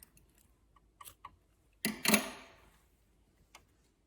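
Scissors cutting knitting yarn after weaving in a strand on a Christmas stocking: a single quick, crisp snip near the mic, followed by a few faint ticks in otherwise quiet surroundings.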